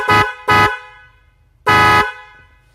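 A DNY double snail car horn being tested gives two short loud blasts, then one longer blast, close and sharp, with quiet pauses between.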